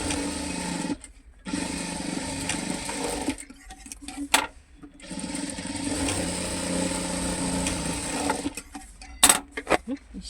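A domestic sewing machine stitches the four corners of a four-cut handbag in steady whirring bursts, with short pauses between runs and small handling clicks near the end.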